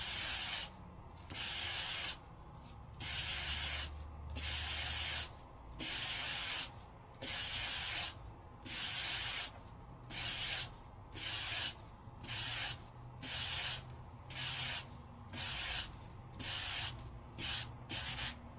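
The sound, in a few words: lightly sanding a die-cut paper piece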